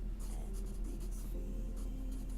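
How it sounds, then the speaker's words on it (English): A pen scratches steadily across paper as someone writes a note by hand, close and continuous over a low background hum. "I'll write a note to myself."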